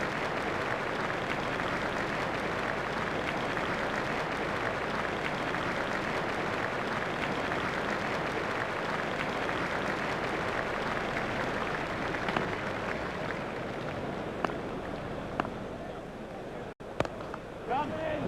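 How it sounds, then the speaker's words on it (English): A simulated cricket crowd in a retro South Africa versus Australia one-day international video game applauds a century with a steady, even roar that runs beneath commentary. "Crowd are standing and applauding"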